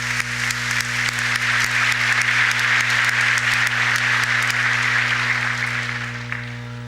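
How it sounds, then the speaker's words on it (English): An audience at a commencement ceremony applauds the speaker, a sustained, even roar of clapping that fades toward the end, over a steady low electrical hum. "So, one more round of applause for Mr."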